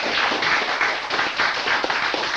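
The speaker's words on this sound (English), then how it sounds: "round of applause for Chapter 3" A small convention audience claps for a group of performers, a short run of fairly close, uneven handclaps with a loose pulsing rhythm lasting a couple of seconds.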